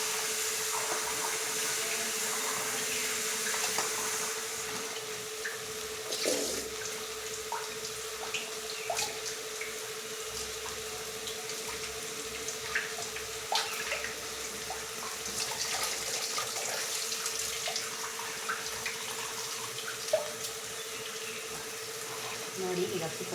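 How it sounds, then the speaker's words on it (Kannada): Tap water runs into a sink as rice is rinsed by hand, a steady, moderately close stream with occasional splashes and rattles throughout. "ಈಗ ಅಕ್ಕಿ ತೊಳ್ಕೊಂಡಿದ್ದೀನಿ."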